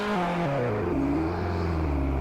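Ford Escort in the game Polish Car Driving accelerates hard, engine pitch climbing through successive gear shifts, loud and close, no talk.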